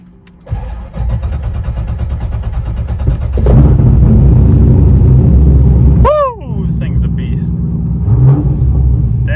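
A drift car's engine rumbles close and loud, stepping up into a heavier, fuller drone partway through, with a brief high squealing chirp and the low, throaty running sound continuing to the end.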